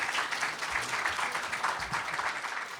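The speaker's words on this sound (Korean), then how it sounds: "쩌렁쩌렁한 큰 스님의 법문에 모두가 기립박수로 화답했다" A crowd rises for a standing ovation after a Buddhist sermon at a large dharma gathering in Dallas: dense, continuous clapping that fills the room and holds steady throughout.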